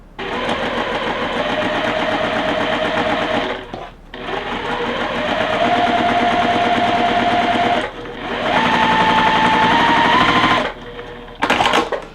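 A sewing machine stitching a cross current quilt block runs loud and close in long steady bursts, with short pauses and a changing motor whine.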